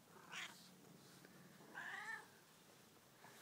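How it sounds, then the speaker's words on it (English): A female Japanese Bobtail cat meows twice indoors, one short call near the start and a longer one a second and a half later, moderately loud and close, with a quiet room in between. "Look at this kitty!"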